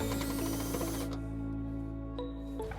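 A drill bores into the steel frame of a 2012 Kia Rio to enlarge a hole for trailer hitch hardware, a loud whirring grind that eases and shifts in pitch before a brief catch near the end.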